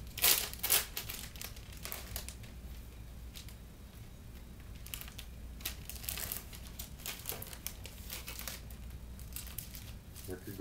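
A plastic resealable outer sleeve for an LP vinyl record is handled close up, giving repeated crinkling and crackling bursts over about ten seconds, with quiet room noise between them.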